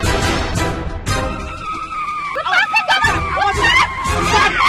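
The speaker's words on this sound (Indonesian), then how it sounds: "Ada mobil nabrak." A car skids with loud tire squeals and a harsh impact, close and forceful, with voices murmuring in the background.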